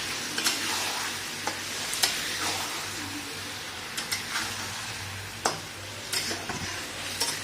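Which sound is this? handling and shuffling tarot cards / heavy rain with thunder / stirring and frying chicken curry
stirring and frying chicken curry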